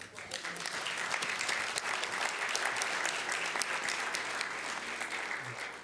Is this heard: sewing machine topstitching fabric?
no